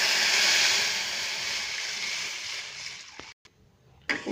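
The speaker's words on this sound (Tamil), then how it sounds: "இப்போ வந்து புளி தண்ணி பருப்பெல்லாம் ஊற்றி வச்சுக்கலாம்" Tamarind water and cooked dal are poured into a pan for paruppu rasam, making a steady, rushing pour for about three seconds that then cuts off, followed by a couple of soft knocks.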